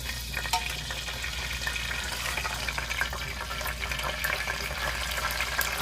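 Oil goes into a pan that is already hot from earlier frying, giving a steady close sizzle with light liquid splashing and occasional clinks throughout.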